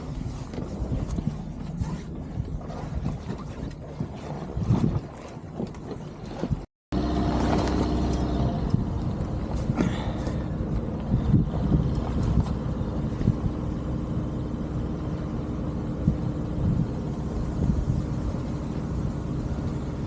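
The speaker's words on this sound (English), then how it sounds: "There's hardly any wind at the moment, but we are sailing." Sailboat moving through calm water in very light wind on a Scottish coastal passage, with steady wind rush and hull and water noise throughout, loud and continuous, broken by one brief dropout.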